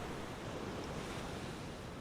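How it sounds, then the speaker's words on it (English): Ocean waves lapping on a quiet beach make a soft, steady wash of surf with faint wind, even and unbroken, with no voices. "I closed my eyes and listened to the relaxing sound of the lapping waves."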